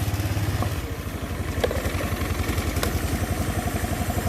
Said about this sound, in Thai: เดี๋ยวผมสตาร์ทรถแป๊บหนึ่ง สังเกตจากเสียงเครื่องนะครับ